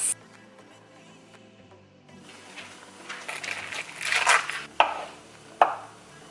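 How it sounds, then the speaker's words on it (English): Knife slicing through an avocado on a cutting board, starting quiet and building into scraping cuts with two sharp knocks of the blade on the board near the end, close and without talk. "let's go ahead and just slice up our avocado"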